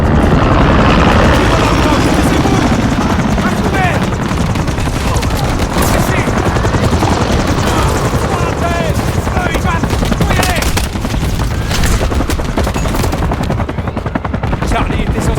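A helicopter's rotor thuds throughout a Call of Duty: Modern Warfare 3 battle, overlaid with bursts of machine-gun fire and scattered shots, loud and dense, with voices speaking over the action.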